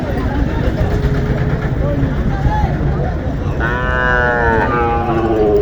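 A Sahiwal bull calf lets out a loud, close moo near the end, heard over a noisy cattle market in Joypurhat with people talking throughout.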